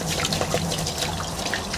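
Water rinses out a container on an allotment, a steady splashing and trickling wash with small gurgles, close and continuous for a couple of seconds without speech.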